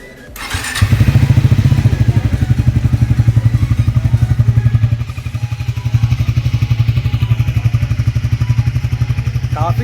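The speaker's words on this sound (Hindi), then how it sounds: "एग्जॉस्ट नोट हम आपको सुना देते हैं कि ये कैसा एग्जॉस्ट से साउंड प्रोड्यूस कर रहा है।" A 2025 Triumph Speed T4 motorcycle cold-starts on its stock exhaust, catching after a brief crank and settling into a loud, close, deep thumping idle with a steady pulsing beat and a slight dip midway.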